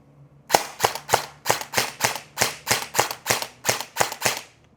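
Airsoft ENC 855 rifle firing on full auto, a rapid burst of about fourteen sharp snapping shots in a steady rhythm, close and loud with no talking.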